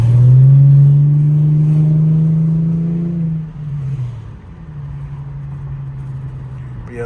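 An Infiniti G35's engine drones loudly at steady revs while driving, then eases off and settles into a lower, quieter hum as a voice speaks briefly.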